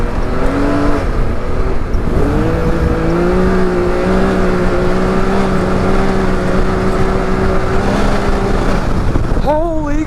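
Can-Am X3 side-by-side run at full throttle in four-wheel drive, its engine roaring loud and close with rising pitch through sustained acceleration, easing off briefly near the start and again at the end.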